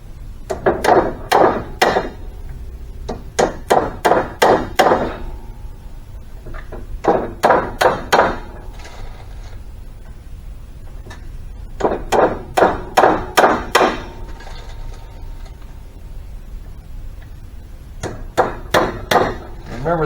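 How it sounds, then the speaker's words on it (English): Wooden pins are hammered into a handmade chair frame in clustered bursts of sharp, close strikes, four or five quick blows per group with short pauses between, under faint room noise. "We get our pins and start driving them in there."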